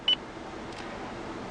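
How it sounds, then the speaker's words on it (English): A single short electronic beep from the voice command system in a 2014–2015 Lexus GS 350, crisp and brief at the very start, followed by a quiet cabin hush. "After the beep, say a shortcut menu command."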